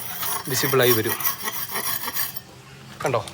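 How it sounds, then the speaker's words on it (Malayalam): A polishing machine grinds over a moulded stone artwork in Bali, giving a loud, continuous rasping rub that varies in pitch as it moves across the surface, with no pauses. "പോളിഷ് മെഷീൻ വെച്ചിട്ട് ഇത് പോളിഷ് ചെയ്യുന്ന സമയത്ത് ഇതൊക്കെ വിസിബിളായി വരും."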